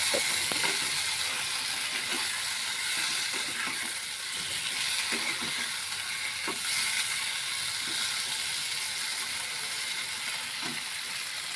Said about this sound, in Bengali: এই যে দিলাম সুজি কচু, ভালোভাবে মিশিয়ে নেব।